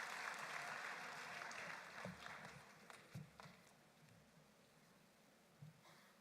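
A graduation audience at IUM applauds; dense clapping is loud at the start and thins out into scattered claps with a few louder bursts.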